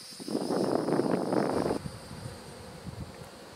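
Honey bees buzz steadily and fairly loud around an open nuc box hive during an inspection for a few seconds, then the drone drops to a softer, sparser hum with light handling noise.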